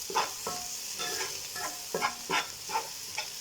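Meat fries and is stirred in tomato sauce for a rice-with-vermicelli-and-peas dish, giving a steady sizzle broken by rhythmic scraping stirs about every half second, close and moderately loud with no talking.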